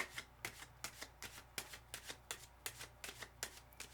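Tarot cards riffled and shuffled in quick, steady bursts, a crisp papery flutter repeating about twice a second, close up with no talking.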